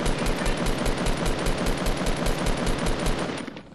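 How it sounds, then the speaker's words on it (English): Rapid automatic gunfire in Fortnite, fired at a tree, rattles on continuously and loud for several seconds, then cuts off near the end. "I'm just shooting at the tree."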